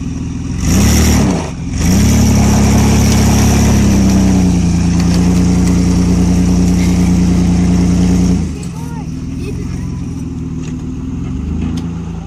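Pickup truck driving in reverse while in drive using a homemade contraption, loud close engine revving with a rising and steady drone for several seconds, then dropping to a lower idle-like rumble.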